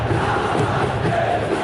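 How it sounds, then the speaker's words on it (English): A large football stadium crowd roars steadily during a match between Indonesia and Fulham, a dense continuous wash of distant voices with no single sound standing out. "the crowd are reacting to that now"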